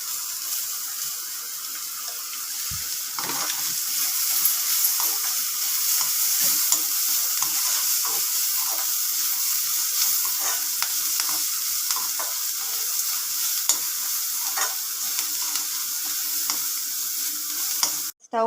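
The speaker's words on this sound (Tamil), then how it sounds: "லாஸ்ட்டாக கொத்தமல்லியை போட்டு லைட்டாக வதக்கிட்டு இறக்கிடலாம்." Coriander and curry leaves sautéing in a pan for an uthappam topping, a steady hiss of frying with scattered stirring scrapes and clicks throughout, no talking.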